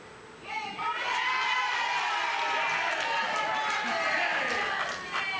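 A crowd at Pilate's judgment shouts in a dense, continuous roar of many voices that swells after a brief quieter start and stays loud and agitated throughout.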